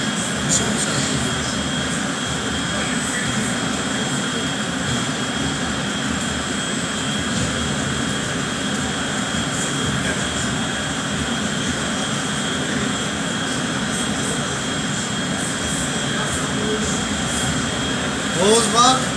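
A jet airplane makes a low flyby in the video game GTA 5, a sustained droning engine roar that holds steady throughout, with a faint rise near the end.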